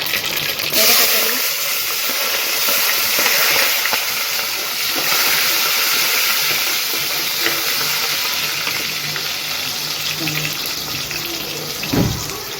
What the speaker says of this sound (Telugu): ఆవాలు, జీలకర్ర, ఎర్రగడ్డలు వేసుకున్నాము నూనెలో